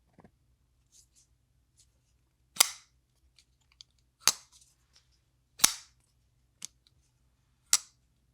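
Civivi Regulatron compact folding knife flipping open, giving five sharp, crisp snaps spaced about a second apart, with faint small clicks of handling between them in an otherwise quiet room.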